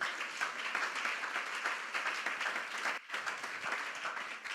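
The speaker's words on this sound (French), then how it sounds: "On acclame très fort la parole de Dieu." A crowd at a prayer gathering applauds loudly and steadily, dense overlapping claps sustained throughout with a brief dip partway, no talk over it.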